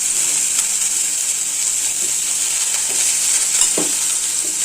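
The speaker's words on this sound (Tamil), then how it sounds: "அரிஞ்சு வச்ச இந்த கத்திரிக்காய், கருவேப்பிலை எல்லாத்தையும் பொழுது போட்டுக்கலாம்." Chopped eggplant and curry leaves sizzle and fry steadily in a pan for chutney, a continuous bright hiss with a few soft stirring scrapes and clicks, close and fairly loud, no talking.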